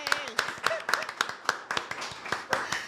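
A small group claps in quick, slightly uneven rhythm to welcome a podcast guest, close up, while a voice talks under the clapping.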